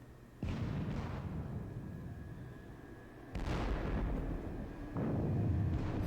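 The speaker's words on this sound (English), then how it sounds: "Big artillery barrage from the Russians." Artillery barrage from Russian guns in a Battle of Friedland war game, heavy booming blasts arriving in three loud waves over a continuous rumbling roar, with no voices.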